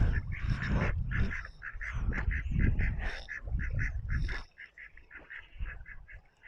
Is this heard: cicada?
no